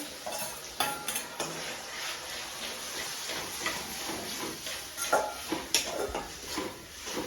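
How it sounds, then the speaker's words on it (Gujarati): Tomatoes cooking on a low flame in a pan for a brinjal bharta, with a soft continuous sizzle under repeated clinks and scrapes of a spoon stirring against the metal, close by. "ધીમા તાપે આપણે ચડી જશું હવે નાખશું ટમેટા"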